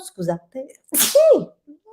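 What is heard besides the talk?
sneeze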